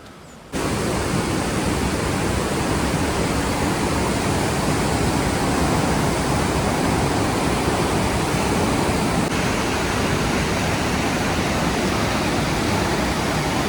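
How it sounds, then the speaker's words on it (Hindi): Loud rushing river water after a dam release in the mountains near Kasol, a steady dense roar that starts abruptly and continues unbroken at close range. "इतनी तेज पानी की आवाज़ हो गई, पानी का लेवल भी बहुत ज़्यादा बढ़ गया कल रात से ना"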